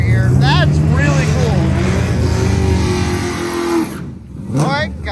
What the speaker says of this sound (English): Just stalled the car. Oh, got it running.